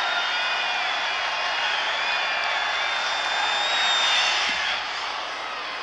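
Dense, steady roar of a packed college football stadium crowd at a 1989 Pitt at West Virginia game, loud and continuous with a swell of cheering near the end and no clear talk.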